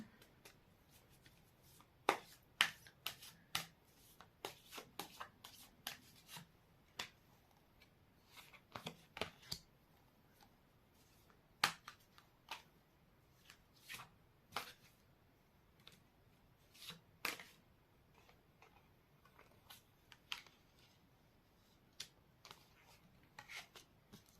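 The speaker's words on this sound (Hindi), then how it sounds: "कार्ड्स निकाल लेती हूँ पहले, फिर बताती हूँ क्या कुछ फील कर रहे हैं आपको लेके।" Tarot cards being shuffled and drawn, a rapid run of crisp riffling snaps and soft slides scattered irregularly over about twenty-four seconds, close and fairly quiet with no talking.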